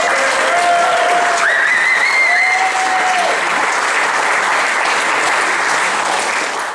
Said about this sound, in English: Can we please give a huge cheer